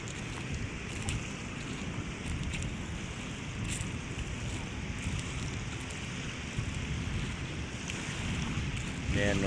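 Steady wind and sea wash along the Manila Bay shoreline at low tide, a continuous broadband rush with no distinct wave breaks, loud and even throughout.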